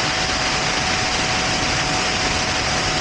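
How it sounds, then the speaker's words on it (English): A high-speed RC model of the SR-71 flies and accelerates hard, giving off a loud, continuous jet-like roar that fills the whole stretch without pause. It sounds close and steady, with no voices. "I finally got the plane airborne and accelerating hard"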